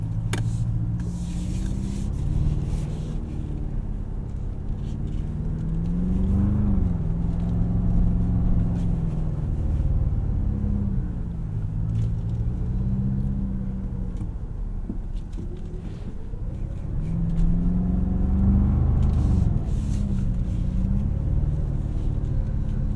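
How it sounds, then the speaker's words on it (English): A 2024 Toyota Tacoma Trailhunter with the iForce Max powertrain drives off-road, its engine a continuous deep, throaty rumble that swells and eases with throttle changes throughout. "This iForce Max powertrain does sound cool. It's throaty, it's meaty."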